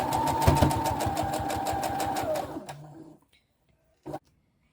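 A home sewing machine stitches bias binding onto a Liberty London tiered dress, a fast, even run of needle clatter with a motor hum that winds down and stops, then one short burst of stitching after a pause.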